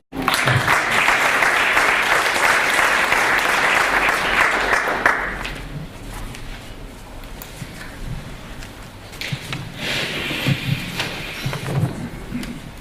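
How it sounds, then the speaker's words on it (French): An audience at an evening gathering applauds for Jean-Michel Poupeau, with dense, steady clapping for about five seconds that thins to scattered claps and then swells again briefly toward the end. "Donc je vous demande d'applaudir Jean-Michel Poupeau."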